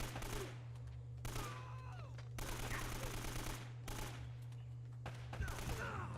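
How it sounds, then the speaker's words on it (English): Bursts of AK-47 gunfire in the video game Uncharted: Drake's Fortune, several rapid volleys separated by short pauses, set against a steady background hum. "Alright, let's use my AK-47."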